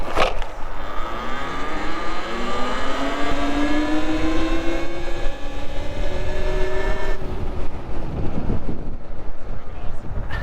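A Talaria Sting electric dirt bike rides quickly past on an outdoor track. It gives a loud, rising electric whine that climbs steadily in pitch as it approaches, with wind rush over the microphone, then drops away abruptly.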